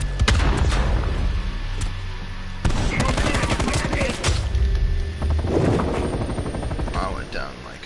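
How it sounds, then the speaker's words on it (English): A grenade blast and heavy automatic gunfire in Black Ops Cold War, loud and close, with rapid machine-gun bursts and booms filling the whole stretch. A player talks over the shooting. "Grenade!"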